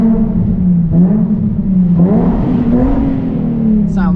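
A Nissan 350Z engine revs up close, a loud, steady droning growl whose pitch rises and falls across several throttle blips, with a voice speaking under it near the end.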